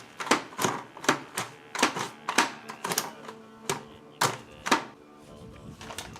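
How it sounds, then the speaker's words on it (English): A hand dicer chopping onion for khuushuur filling, a rapid series of sharp mechanical clacks and thumps at an uneven, quick rhythm, close and fairly loud, with no talking. "So I have a nice dicer here."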